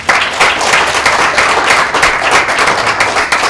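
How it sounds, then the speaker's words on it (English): Crowd applause at WhaleFest Live 2015, a loud, steady burst of many hands clapping close up, lasting a few seconds without talk. "Give him a round of applause for that, guys."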